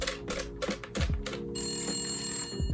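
An old-school landline telephone rings with a rapid metallic bell trill in bursts, close and clear, followed by a steady high electronic ring tone; no voices.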